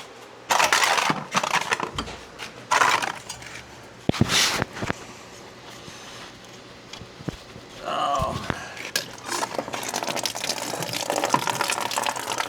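Water splashes and gushes in bursts as a bowl is filled for Leroy, a pet dog, outdoors on a hot day, with brief pauses and faint voices between pours.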